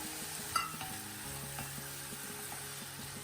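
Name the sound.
stirring potatoes frying in a pan for sabudana khichdi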